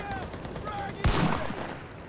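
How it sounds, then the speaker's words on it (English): A single sharp sniper rifle shot cracks out in the WW2 shooter Enlisted, one loud report about halfway through with a brief decaying echo after a quiet lead-in. "I just sniped their commander."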